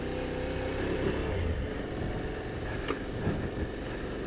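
Motorcycle engine running steadily while riding along a rural path that turns into a tractor track, a continuous mid-pitched drone with slight throttle swells and wind rumble, no talking.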